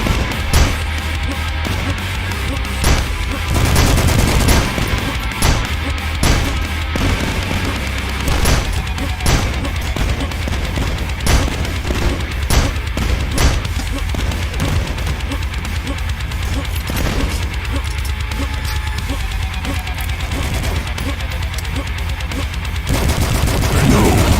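Hunting rifle fire during a boss fight in the retro shooter DUSK, loud sharp cracks repeating every second or so over dense game noise and music for the whole stretch.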